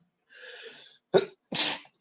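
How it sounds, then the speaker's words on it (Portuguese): A single close, sharp sneeze from a teacher during an online English lesson, with a breathy inhale building up before two quick explosive bursts, in an otherwise quiet room. "Eita, espirrei."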